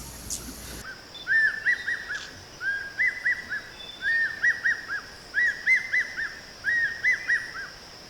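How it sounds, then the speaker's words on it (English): Bird cries ring out in a rainforest, attributed to an ornate hawk-eagle. Several paired, whistled calls repeat at a steady pace after a brief noisy start. "When the forest rings with the eagle's scream"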